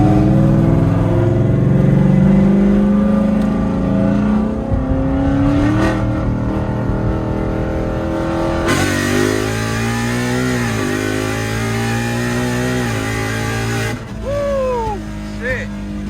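Ford Mustang GT with a ported 2018-plus intake manifold and throttle body and bolt-on mods, revving hard in repeated rising and falling pulls, loud and close, with a raspy V8 growl and people talking in between.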